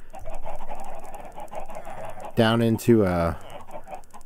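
Chickens in a small breeder cell in Minecraft let out two loud, close clucking calls near the end, over game background noise and faint music.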